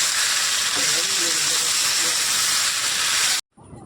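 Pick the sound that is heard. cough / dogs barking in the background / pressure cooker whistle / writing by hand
pressure cooker whistle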